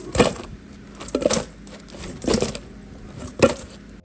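Pieces of fried homemade bannock tossed with sugar in a bowl, shaken in four quick rattling bursts with short pauses between, close and fairly soft.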